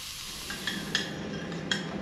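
Food fries in a pan at an offshore fishing catch-and-cook: a steady, fairly quiet sizzle with a few light metallic clinks from stirring scattered through.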